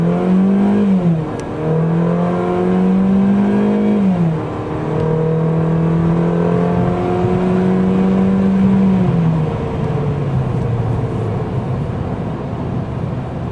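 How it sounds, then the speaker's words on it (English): A car engine revs hard through throttle pulls during break-in, loud and close, its pitch climbing and dropping in several long sweeps with brief lifts of the throttle between them. "Then finally you go for 4 throttle pulls."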